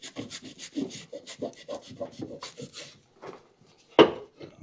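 Rag wiping old grease off a part of a Craftsman Z530 mower deck, a run of close, soft rhythmic rubbing strokes ending in a sharper scrape.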